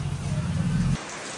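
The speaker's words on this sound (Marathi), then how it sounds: "पावसात नुसता पाऊस आहे ना" Heavy rain pours steadily during a village temple visit, a dense hiss with a low rumble that cuts off partway through, leaving quieter rainfall, with no voices.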